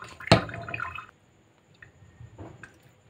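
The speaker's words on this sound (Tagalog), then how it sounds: "lagyan natin ng isang basong tubig" Water splashes into a container in one sharp pour-like burst, followed by faint dripping and a brief trickle, close and alone.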